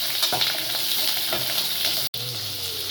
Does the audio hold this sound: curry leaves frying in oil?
yes